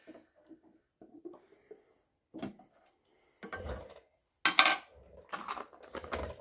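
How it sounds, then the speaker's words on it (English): Bondo all-purpose putty being mixed on a hard surface, sparse scraping and tapping strokes from a spreader, near and fairly quiet, in short separate bursts with silence between. "I'm going to go ahead and mix up my Bondo right now"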